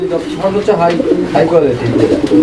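Racing pigeons coo softly and repeatedly, close by, beneath someone talking steadily throughout.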